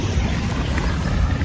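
Boat ride at Boracay, a steady low engine and water rumble with wind buffeting the microphone, continuous and fairly loud with no talk.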